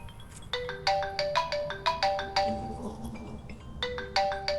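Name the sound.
phone ringing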